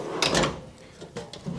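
A drawer in a small workshop tool cabinet slides and bumps shut, two or three brief clattering knocks close by, with no talk over them.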